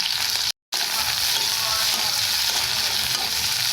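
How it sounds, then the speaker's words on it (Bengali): Sliced onions and green chillies drop into hot oil and fry with a loud, continuous dense sizzle close by, broken by a brief cut-out near the start. "তেল দিয়ে দিয়েছি গরম হয়ে গেছে তা আমি পেঁয়াজগুলো দিয়ে দিচ্ছি"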